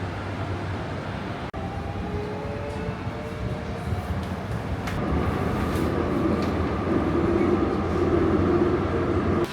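Inside a moving Seoul Metro Line 8 subway train: a steady mechanical rumble and rattle that grows louder midway, with a sharp click near the start.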